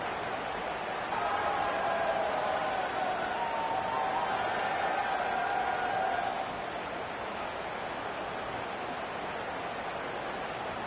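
A stadium crowd roars at the UAB versus Auburn college football game, with a steady, dense wash of cheering that swells louder for several seconds before settling back to a sustained roar.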